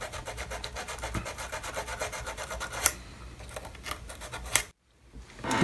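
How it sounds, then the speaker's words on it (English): Sandpaper rubs the corners of a curved wooden decorative moulding for a model ship, giving quiet rapid scratchy strokes, a couple of sharper scrapes, then a short pause. "And then just finish the corners with a bit of sandpaper."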